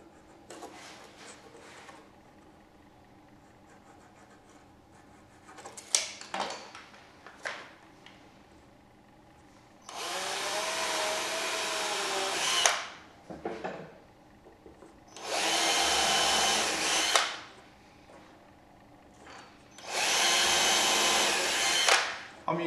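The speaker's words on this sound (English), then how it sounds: "I'm using a 2mm drill bit." A power drill with a 2mm bit whirs in three long steady bursts separated by pauses, loud and close, with some handling clatter before the first run.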